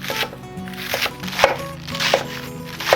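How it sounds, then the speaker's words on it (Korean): A kitchen knife cuts cabbage into thick, roughly 1 cm pieces on a cutting board, with a few sharp, separate chops spaced about a second apart, each clear and close. "두툼하게 그냥 퉁퉁 썰어주세요"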